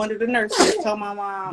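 A single sharp sneeze bursts out in the middle of an ongoing conversation, loud and close, with someone speaking just before and after it.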